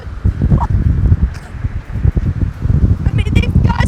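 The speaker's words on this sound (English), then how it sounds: "we're talking major gusts, 60 to 70 miles per hour with a winter mix of sleet and snow" Strong nor'easter wind gusts on Cape Cod, with sleet and snow, roar in a continuous loud low rumble that buffets and surges without a break, blustering hard across the whole stretch.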